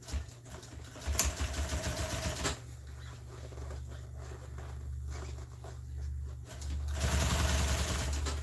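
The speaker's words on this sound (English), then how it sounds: "whenever I'm sewing around here, I know that my needle and my stitch is going to be the same" A sewing machine runs steadily while stitching along a seat cover seam, giving a continuous low mechanical hum that pauses briefly and starts again, with no talk.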